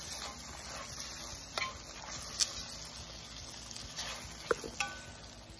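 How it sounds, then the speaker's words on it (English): Chicken biryani ingredients sauté in a pan toward golden brown, a soft continuous sizzle with occasional stirring clinks and scrapes, close and fairly quiet. "I'm gonna saute it up until it turns like a golden brown."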